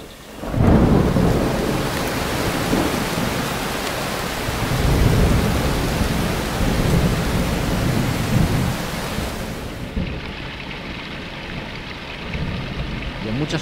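A heavy late-May thunderstorm at dawn in the Cameros hills: dense, steady rain with deep rolling thunder that swells and fades, loud and continuous, the rumble easing slightly toward the end.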